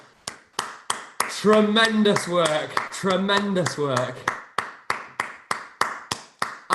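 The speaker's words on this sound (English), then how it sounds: "Give yourselves a huge round of applause." A theatre cast at an online curtain call claps in a slow, evenly spaced rhythm of sharp individual claps, with someone speaking loudly over the middle stretch.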